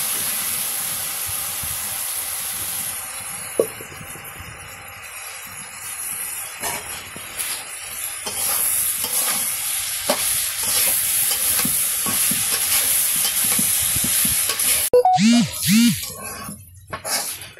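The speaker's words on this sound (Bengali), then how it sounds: "এই যে করলা ভাজি করা হয়ে গেছে" Bitter gourd with salt and turmeric frying in a pan in a simple village kitchen, a steady hiss of oil with intermittent scraping stirs, growing busier toward the end with a few clattering knocks.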